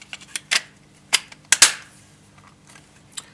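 Sharp plastic clicks and snaps from a Cyma Glock 18C airsoft replica being put back together, the barrel fitted in place; a handful of close, isolated clacks with quiet gaps between them.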